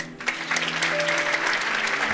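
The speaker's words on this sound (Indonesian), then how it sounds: "Tepuk tangan." Congregation at a church worship service breaking into applause, a continuous crackling patter of many hands at moderate distance that holds steady for the full stretch.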